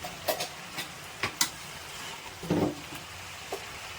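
Chicken pieces coated with pepper and chili powder are stirred in a pan, a few scraping spoon strokes and bumps over a soft low sizzle, close by, no voices.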